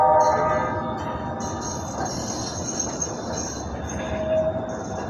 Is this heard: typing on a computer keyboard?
no